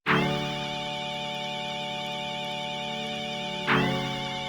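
Sustained Erie Island synth chords with no effects, a dense steady pad holding for several seconds before a second chord strikes near the end, with a thin vinyl crackle texture running underneath.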